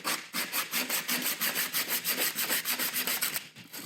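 Steady back-and-forth hand sanding of a hardened J-B Weld epoxy block with coarse 60 grit sandpaper, rapid rhythmic scratchy strokes about five per second, close and fairly loud, with no talking.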